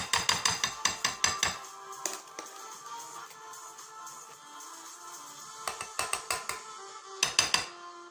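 A spoon knocks repeatedly against a dish to free mango speculoos tiramisu cream, sharp clinking taps in quick bursts at the start, middle and end, with quieter scraping in between.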